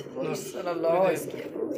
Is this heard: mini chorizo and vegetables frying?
no